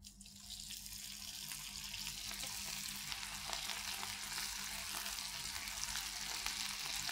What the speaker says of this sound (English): Once you put the idli to fry, do not start stirring it